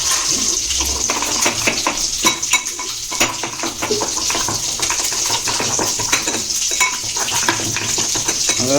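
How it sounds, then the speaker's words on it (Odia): Water is poured into a chili and turmeric masala in a pan and stirred, giving a continuous close, wet scraping and sloshing with a steady sizzle underneath and no speech. "ସେ�ଥିରେ ଟିକେ ପାଣି ପକେଇ ଦେଇକି ଗଡ଼ିଦେବା।"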